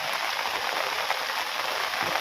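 Heavy rain pours down steadily in a village area, a dense, even hiss of drops hitting surfaces with no gaps and no voices over the short stretch.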